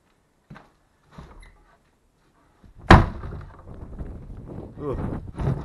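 Indoors in an abandoned farmhouse, after a few faint knocks, a wind-blown door bangs loudly once, followed by ongoing rattling and shuffling noise.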